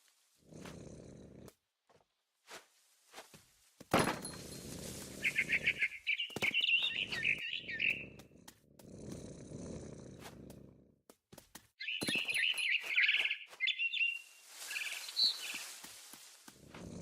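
Bird chirps and tweets from the video game What Remains of Edith Finch, two bursts of rapid high chirping over soft rustling game sounds, fairly close and moderately loud, with no talking.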